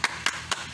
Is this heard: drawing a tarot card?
no